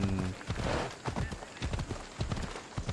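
Rhythmic horse hooves from the video game Assassin's Creed Odyssey clip-clop steadily across a hard surface, fairly close, with a brief whinny-like tone early on and no speech.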